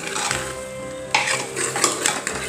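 Spoon stirring pav bhaji vegetables and masala in a pan, with metal scrapes and clinks against the pan over a soft sizzle, in several irregular strokes.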